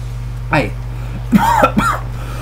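A short cough and throat clearing, close and fairly loud, broken into a few bursts over a steady low hum, with a little speech around it.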